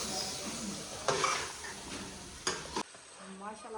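Mushrooms and peas are stirred in a hot pan for a chicken mushroom stir-fry, with soft sizzling, scraping stirs and a couple of sharp spatula knocks against the pan, ending abruptly in near quiet.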